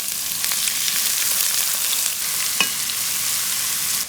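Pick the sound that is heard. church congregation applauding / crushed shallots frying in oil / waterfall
crushed shallots frying in oil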